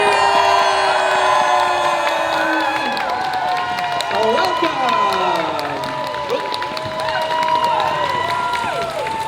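A Comic Con crowd in Brussels cheers, whoops and claps loudly throughout, with a voice shouting a greeting over the noise.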